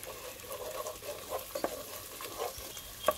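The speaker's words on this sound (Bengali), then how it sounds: "এখন এই যে ডিমটারে পেঁয়াজের সাথে একদম ভাঙাচোড়া করে দেবো" Egg scrambling with onion and green chilli in a pan gives a soft, close sizzle under scraping stirring strokes, with small irregular clicks of the utensil against the pan; no talking is heard.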